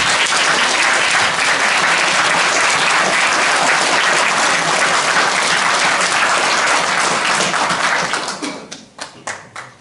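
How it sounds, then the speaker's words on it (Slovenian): An audience at a pre-election mayoral debate in Ljubljana claps loudly and steadily for several seconds, then the applause thins to a few scattered claps. "Jaz prosim svojega, da ne ploskate, da imamo več časa za diskusijo"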